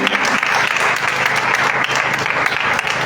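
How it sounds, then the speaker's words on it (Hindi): Dense, loud applause from a church congregation at a Sunday service, a steady roar of many hands clapping close by for the whole stretch. "जोरदार तालियां जिंदा खुदा के लिए बजाएं"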